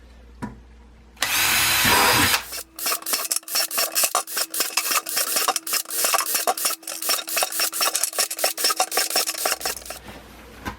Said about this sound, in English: I'm going to drill holes in one bucket no further than up to the bottom of this ridge